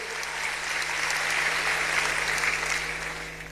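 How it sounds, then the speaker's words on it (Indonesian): Warm, sustained applause from a church congregation during a sermon, an even rush of many hands clapping that swells gently in the middle and tapers toward the end. "Yang setuju berikan tepuk tangan yang meriah buat Tuhan."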